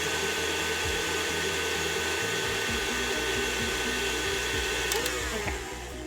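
A blender whizzes sweet potato mash in a steady, loud motor whir that runs continuously, with pitch wobbles as the load shifts and a slight rise near the end.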